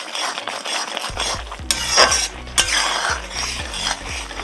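A spoon stirring salt into roselle chutney, scraping and clinking against the pot in a steady, repeated rhythm, close and fairly loud, with no talking.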